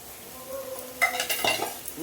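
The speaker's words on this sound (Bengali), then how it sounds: "দিয়ে ভালো করে মশলাটা আমি কষে নেবো, অনেকক্ষণ ধরে কষতে হবে" Spice paste with poppy seed paste sautéing in a pan for a shola kochu dish, giving a soft sizzle broken by a few sharp metallic scrapes and clinks of a spatula against the pan, close by.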